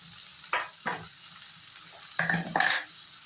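Ginger and onion go into a hot pan for chicken fried rice, giving short bursts of sizzling and stirring scrapes, close and fairly loud in brief pulses.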